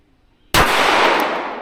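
A single loud gunshot from a Daniel Defense H9 pistol, fired outdoors at a target about 105 yards away, cracks sharply after near-silence and rings into a long decaying echo.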